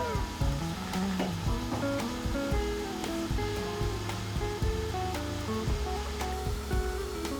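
Onions frying and browning in a pan, a soft continuous sizzle under scattered clicks and light knocks, fairly quiet and close, with no voices.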